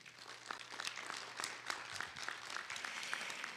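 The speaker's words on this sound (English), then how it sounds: "Please join me in a round of applause and thank you to Keeley." Audience applause at a school board meeting, a steady wash of many hands clapping at moderate volume, continuing evenly throughout with no voices over it.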